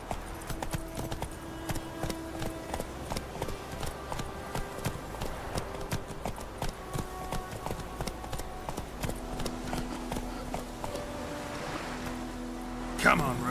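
Roach the horse clip-clops in steady hoofbeats at a walking pace in The Witcher, under background music and ambience, with a voice speaking over it.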